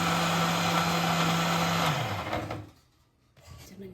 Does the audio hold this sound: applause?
no